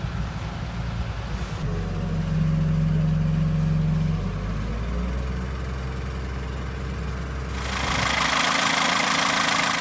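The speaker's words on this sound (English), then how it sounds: "Overall then, Mike, how do you feel about the engine rebuild?" A rebuilt sailboat engine idles close by with a steady, loud, knocking rumble that shifts pitch slightly partway through, then gives way to a hissier noise near the end.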